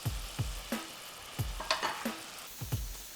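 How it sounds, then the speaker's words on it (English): A spoon or spatula stirs cornstarch slurry into orange chicken sauce in a pan, with rhythmic scraping strokes about every third of a second over a soft sizzle, close and moderately loud. "give a cornstarch mixture a quick stir to mix it up again, and then add it in so everything stays nice and smooth"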